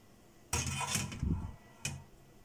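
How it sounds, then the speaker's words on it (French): Stirring a tomato and meat stew in a cooking pot, with a few clattering scrapes and knocks of a utensil against the pot in two short bursts, close and moderately loud. "on va donc remuer légèrement"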